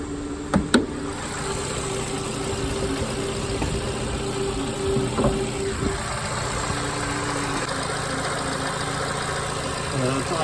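A 2011-2017 VW Jetta 2.0 liter engine idling steadily, a low even hum close by with a couple of sharp clicks early on and no speech.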